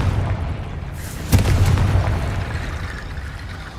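A Confringo fire-spell explosion in Hogwarts Legacy, a single sharp, close blast followed by a low rumbling boom that fades over a few seconds.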